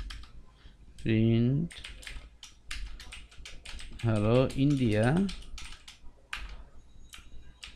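Rapid clicks from a computer keyboard as a line of Python code is typed, a quick run of keystrokes under and between a man's spoken words.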